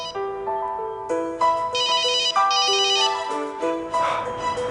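Cell phone ringtone playing inside a gas-filled blast test chamber, a repeating electronic melody of short stepped notes with shimmering higher bursts, moderately quiet and uninterrupted.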